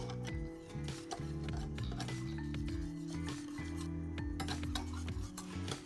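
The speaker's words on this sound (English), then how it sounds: "We're going to keep on whisking to make sure that everything is nice and emulsified." A whisk scraping and ticking steadily through caramel and butter in a pan, quick rhythmic strokes mixed with faint metallic clinks, sitting under a backdrop of steady background music.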